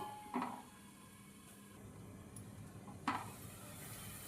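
An egg fries in a pan over a flame with a faint, steady sizzle, broken by two soft clinks of a utensil against the pan.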